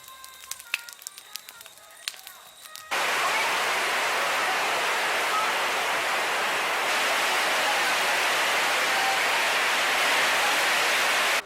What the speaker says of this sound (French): Quand il pleut, il pleut vraiment quoi. Oui, surtout avec les toits en tôle.